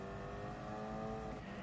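A race car circles a track in Gran Turismo Sport, its engine droning steadily and loudly with a constant, sustained tone throughout and no break.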